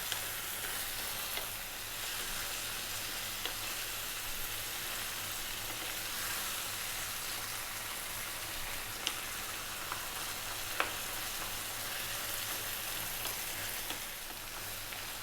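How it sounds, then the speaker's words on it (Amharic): Ground meat with vegetables and corn fries in a pan for a chili-style meat sauce, giving a steady, even sizzle with occasional faint stirring clicks and no talking. "አሁን በደንብ እንጠብሰዋለን።"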